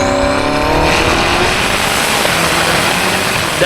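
BMW M8 Competition under hard acceleration, loud and continuous, with a roaring engine and a rising whistle from the intakes spooling up, no talk.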